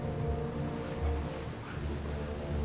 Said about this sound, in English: that sound of the water is just so calming